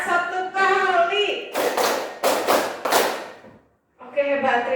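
A class of students claps a single counted group of five in unison on a teacher's instruction, crisp and close, with the teacher talking before and after.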